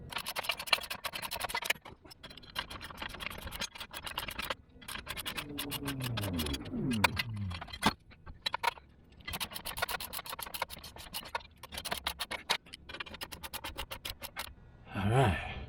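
Bolts on MetalCloak front and rear differential covers and skid plates of a Jeep JL Rubicon are tightened down with rapid ratcheting clicks in repeated bursts, broken by short pauses and scraping rubs close to the microphone.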